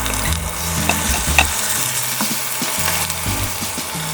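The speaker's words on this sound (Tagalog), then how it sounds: "Sauté for about 3 minutes." Garlic and chicken hotdog sauté in a pan with a constant loud sizzle of hot oil, broken by repeated scraping and stirring knocks of a utensil against the pan.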